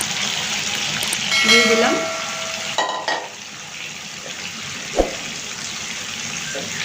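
Chicken pieces sizzle in hot oil for a home-style chicken roast, a continuous frying hiss with a few clinks and a sharp knock. A short spoken phrase passes over the sizzle.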